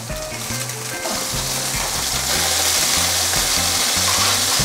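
Squid frying on a hot iron griddle with a sauce of sweet bean paste, oyster sauce, pepper, oil and water, a steady loud broadband sizzle over a rhythmic low mechanical hum, continuous throughout.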